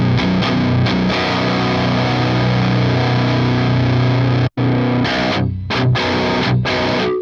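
A high-gain, tight distorted electric guitar tone through a Fractal FM3 amp model plays loud, sustained chords and chugs, with a brief full stop halfway and a few choppy muted stabs near the end.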